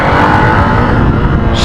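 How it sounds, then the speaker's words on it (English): A motorcycle engine in first gear braking with no brakes or clutch, a loud, close, continuous drone with a slowly falling pitch for under two seconds. "Now I'm going to show you how do you do your engine braking with the first gear"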